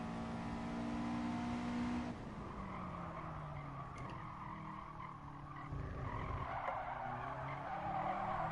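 A race car in GT Sport brakes hard at Tsukuba with a long, loud tire squeal, then skids again more faintly as the engine note drops and picks back up.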